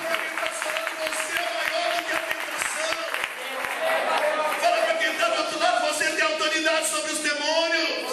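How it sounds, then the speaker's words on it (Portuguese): A church congregation claps steadily and loudly for several seconds during a sermon, the applause mixed with raised voices and musical tones. "Aplaude."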